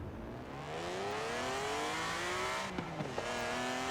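A BMW's engine with 330 horsepower in Forza Horizon 4: a raspy straight-six that revs rising steadily through the gears, with a brief shift blip near the end, heard clearly with no talk over it.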